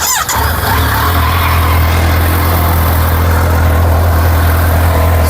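A 2022 Kawasaki Z900SE's inline-four engine idles smoothly and steadily up close, a loud even hum with no talking.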